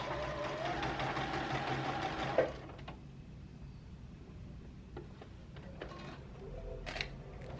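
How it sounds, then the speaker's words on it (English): A sewing machine runs a straight stitch on a dress for about two seconds in a fast, even whir, then stops, leaving quiet room tone with a few light clicks and handling taps. "I am going to sew a straight stitch from the underarm seam all the way down to the hemline"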